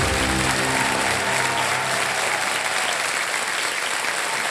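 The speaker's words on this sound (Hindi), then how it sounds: "तालियां बजती रहें इनके लिए" Studio audience applause for a winning contestant on the quiz show Kaun Banega Crorepati, a dense steady wash of clapping held at even loudness throughout, with no talk over it.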